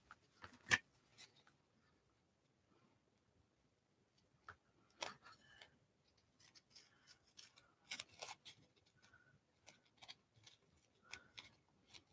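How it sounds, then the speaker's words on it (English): Scissors snipping through paper at a quiet crafting table, with a sharp isolated cut at first, then a scattered series of soft snips and rustles spread unevenly over several seconds. "Just for the fun of it, let's cut this."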